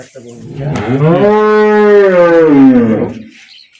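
A young two-tooth dairy cow of an improved breed lets out one long, loud, close moo that rises and holds steady for about three seconds before fading, with no talk over it.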